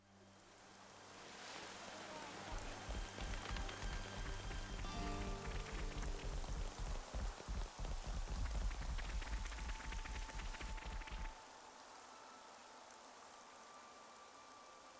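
Rain falls in Xenoblade Chronicles 3, a dense steady patter of drops on surfaces that swells, holds loudly for several seconds and then cuts off abruptly into quieter ambience.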